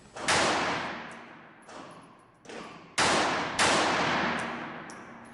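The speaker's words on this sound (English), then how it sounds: "my experience shooting this gun has really improved" Gunshots from a Tanfoglio GT 380 semi-automatic pistol: five sharp, loud reports at irregular intervals, each with a ringing decay. Nobody speaks.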